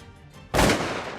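A single loud shotgun blast during a Louisiana duck hunt, abrupt and close with a brief decaying tail outdoors.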